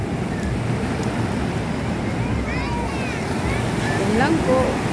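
Heavy ocean surf rolls in continuously, a broad steady wash of breaking waves with wind buffeting the microphone, while people's voices and shouts carry faintly over the roar at a crowded beach where many are swimming.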